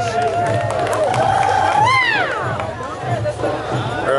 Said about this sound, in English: Wild cheering and applause.